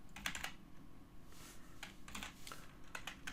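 Steady typing on a computer keyboard while entering a spreadsheet formula, with irregular clusters of close, crisp key clicks and brief pauses between them. No voices.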